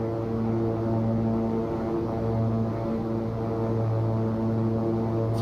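Twin turboprop engines of a Beechcraft King Air 350i in X-Plane 11 drone steadily with layered tonal hum, loud and constant, building power during the climb after takeoff.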